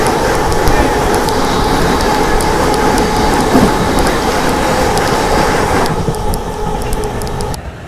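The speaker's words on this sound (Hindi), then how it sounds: "सामने से आ रही है 2246 नई दिल्ली वाराणसी वंदे भारत एक्सप्रेस हमारी अमृत भारत को जिंक करने के लिए आ रही सामने से।" Vande Bharat Express train running alongside the Amrit Bharat train, a loud, continuous rumble of wheels and carriages with clattering rail noise close by, steady throughout before easing slightly at the end.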